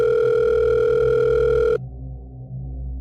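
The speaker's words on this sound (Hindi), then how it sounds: "कि पॉकेट में रखा उसका फोन बज उठा।" A phone rings from inside a pocket as a steady electronic telephone tone, loud and alone for under two seconds before cutting off abruptly into quiet room hum.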